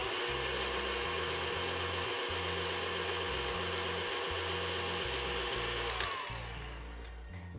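An electric mixer whirs steadily through chewy M&M cookie dough after vanilla extract is added, its motor hum pulsing in a regular rhythm before winding down near the end.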